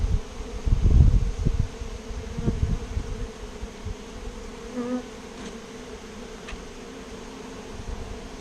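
Honeybee swarm buzzing steadily while excess comb is removed, with a dense drone throughout and some close rustling and handling thumps early on, no talk.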